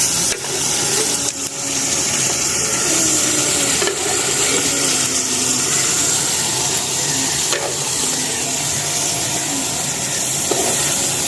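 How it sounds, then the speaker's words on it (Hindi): Hot oil sizzling as a tempering is poured over cooked mustard greens (saag) in a village kitchen, a steady loud hiss and crackle with occasional clinks, with no talk. "माशाल्लाह से साग को तड़का लगा दिया है"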